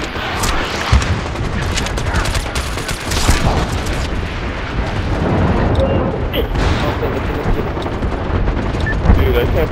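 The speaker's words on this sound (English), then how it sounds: "Throwing fucking random grenades." In the online shooter MAG, grenades and gunfire rumble through a domination battle at a refinery, with dense, loud booms and crackling bursts that run together without a break.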